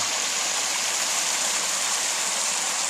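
Spring water in a rainforest stream near Volcán, Panama rushes in a steady, loud, continuous broadband wash, close by and without talk.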